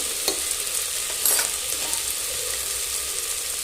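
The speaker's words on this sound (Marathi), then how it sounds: "पुन्हा आपण हे छान असं परतून घ्यावे" Horse gram rice sautéing with homemade masala, onion, garlic, turmeric and chili powder, a continuous sizzle with a few sharp scrapes and clinks of stirring, close and steady without speech.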